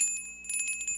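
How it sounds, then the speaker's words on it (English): A small ding-a-ling bell rings from a toy sound box in a quick series of bright, tinny strikes, fairly soft and close, with no talking. "Was that the dinner bell?"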